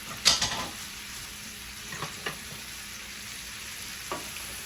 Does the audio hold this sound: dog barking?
no